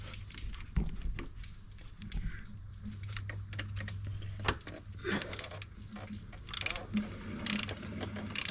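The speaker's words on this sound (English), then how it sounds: "One, two clicks, and that's it. Drain plug has been closed." A ratchet wrench clicks in short, irregular bursts while tightening the oil drain plug on a 2024 Polaris Sportsman 570 ATV, close and fairly quiet with faint mechanical handling between clicks.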